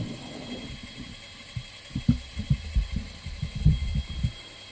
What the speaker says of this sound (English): Going to wind the pump down so we can hear each other clearly.